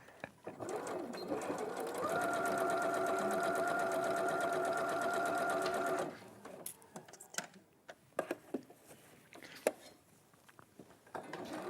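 A sewing machine stitches a zip opening seam with a 1 cm seam allowance, running steadily for about four seconds at close range before stopping, followed by scattered small clicks and handling knocks.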